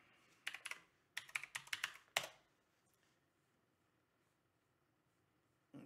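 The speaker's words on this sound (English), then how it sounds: "Let me type this in here." Someone types on a computer keyboard in quick, close bursts of crisp key clicks for about two seconds, ending in a sharp final tap. Near-silence follows, with one more click at the very end.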